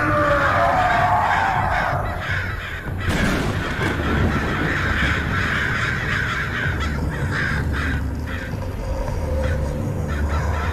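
A flock of crows caws harshly and repeatedly while attacking a monster in a Korean horror game, loud and dense, layered over a rumbling, noisy game soundtrack throughout.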